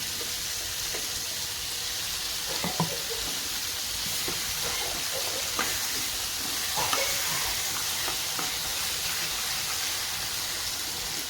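Ground coconut masala paste frying in hot oil for a bitter gourd curry, giving a steady, dense sizzle with occasional soft stirring scrapes throughout.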